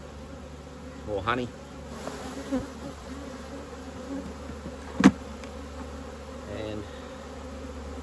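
Honeybees buzz steadily around an open hive on an early spring morning, a constant close hum with a sharp tap or knock partway through, while a person speaks a few words over it.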